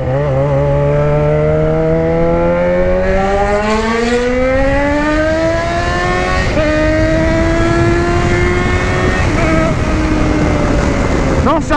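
A loud Yamaha XJ6 motorcycle engine with a stainless steel exhaust revs steadily upward in pitch, its throaty exhaust roaring continuously, close by and without pause.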